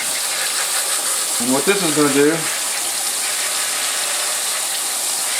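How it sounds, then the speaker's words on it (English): Hot water sprays down onto cooked hamburger meat in a pan, making a steady, loud rushing hiss throughout, while someone speaks briefly over it. "Now you're going to spray down your meat."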